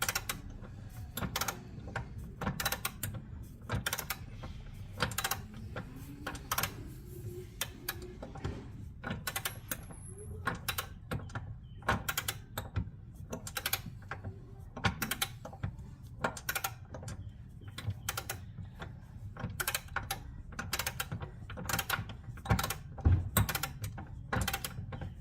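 A torque wrench fitted with a large 3/4 inch socket turns a bolt while fitting a trailer hitch to a 2020 Can-Am Spyder RT Limited, giving a long run of quick, close ratcheting clicks in a steady rhythm over a low background hum.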